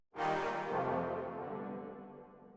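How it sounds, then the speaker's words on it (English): A lingering wash of reverb tail with the dry source removed, swelling quickly then slowly decaying over a couple of seconds. "So that's just the reverb you're hearing now."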